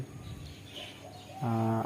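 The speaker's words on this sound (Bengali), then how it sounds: "পাখিদের খাবার দেওয়া হচ্ছে" Birds being fed in the early morning coo and call softly against a quiet background, with one louder, sustained cooing call near the end.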